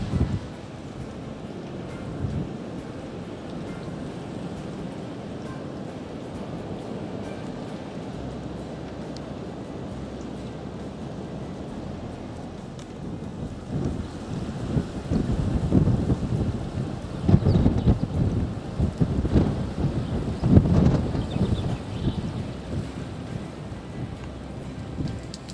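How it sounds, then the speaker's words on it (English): Strong wind gusts across an open coastal fishing spot, a steady low roar that builds into heavier buffeting gusts hitting the microphone in the second half, with no talking. "that wind now is really blowing"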